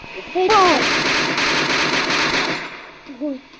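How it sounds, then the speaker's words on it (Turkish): Rapid automatic gunfire from the video game Free Fire bursts out loudly for about two seconds, with another short burst near the end, while voices talk over it. "Silah sıkıyor."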